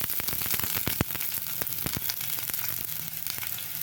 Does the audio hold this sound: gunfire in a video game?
no